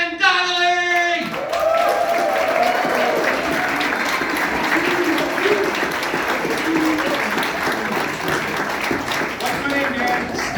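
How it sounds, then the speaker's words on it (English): Audience at a Toronto comedy club applauding a comedian: loud, sustained clapping from a full room that holds steady for about ten seconds, with cheers and voices mixed in, after a brief announcer's voice at the start. "get those applause going for Dan Donnelly!"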